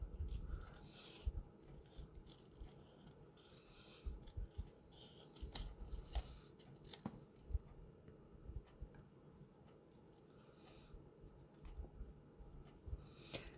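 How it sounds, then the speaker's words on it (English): Scissors snip through paper while the sheet is turned to round the corners of a cut-out butterfly shape, giving soft, close, irregular clicks and rubs with no talk. "I'm just turning my paper as I cut so that I can get some nice rounded corners in there."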